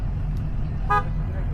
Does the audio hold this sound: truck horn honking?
yes